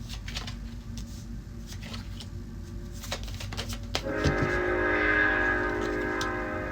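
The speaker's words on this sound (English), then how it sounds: "I live near a train and that was passing." A passing train rumbles nearby, a low steady roar with scattered card-shuffling clicks, then swelling into a louder grinding, screeching wheel-and-rail noise in the last few seconds.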